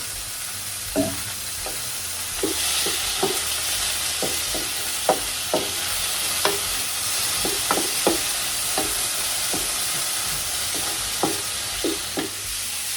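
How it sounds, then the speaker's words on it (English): Onion, tomato and green chili sizzle in a pan for a creamy spinach dip, with a steady hiss and scattered sharp spatula taps and scrapes, close and clear, with no speech. "So I'm going to add this in with my onion."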